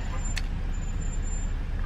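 A parked car idles with its engine running, a steady low rumble heard from inside the cabin, with a single brief click near the start and no talking.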